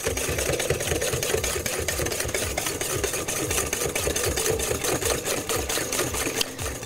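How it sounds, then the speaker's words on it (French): Egg yolks and sugar are whisked by hand for crème brûlée, a fast, steady, rhythmic clatter of whisk strokes in a bowl that continues evenly throughout with no talking. "Blanchir au fouet."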